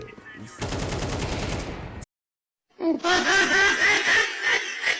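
Rapid bursts of synthetic gunfire crackle from a first-person shooter game, broken by a short silence, with a person laughing and reacting over the shots.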